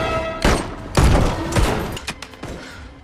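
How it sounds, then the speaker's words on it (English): Gunfire in a film gunfight: loud, dense bursts of overlapping shots and impacts, several heavy volleys across about three seconds, with no speech. "A gunfight erupts when Levik's men try to shoot Sadie"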